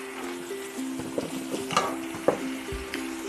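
Shrimp frying in a pan on high heat, with a soft steady sizzle broken by a few light stirring clicks and utensil taps, fairly quiet and close, no talking.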